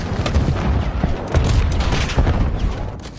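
A frag grenade goes off in Call of Duty Warzone, giving heavy, rumbling booms that roll through the whole stretch with several loud low blasts layered over one another.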